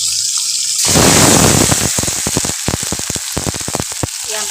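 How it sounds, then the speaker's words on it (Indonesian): Shrimp paste (terasi) fries loudly in a pan, a burst of hissing sizzle followed by rapid crackling pops and spitting, close and continuous with no talking. "Nih, terasinya tak goreng dhisik."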